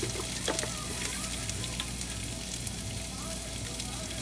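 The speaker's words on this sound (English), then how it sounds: "then we're going to saute this for about 2 to 3 minutes before we add in our coconut" Spiced chickpeas sautéing in a pan with salt, giving a dense, even sizzle and crackle throughout, with faint scrapes of stirring and no talk.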